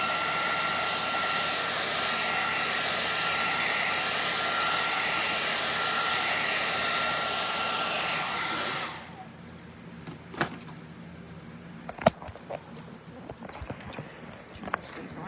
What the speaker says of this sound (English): let's let the middle part dry. Real hot dryer.